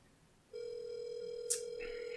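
A telephone rings on an outgoing call, a steady tone holding for nearly two seconds after a brief quiet start, with a short click midway and no talk over it.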